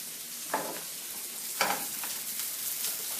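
Avocado frying in melted butter in a pan, a soft steady sizzle with a few brief scraping stirs, fairly quiet and close with no speech.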